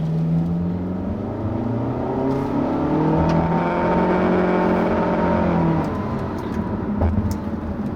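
A 2016 Honda HR-V engine drones steadily while driving, a constant mid-level engine hum with gently rising and falling pitch and road noise, with no talk.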